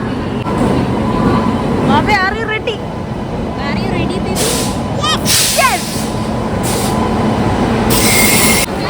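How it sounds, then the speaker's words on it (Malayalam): A train rumbles and clatters in slowly, wheels squealing in sharp bursts, with station crowd chatter and voices throughout. "ട്രെയിൻ മെല്ലെ മെല്ലെ വരുവാണ്"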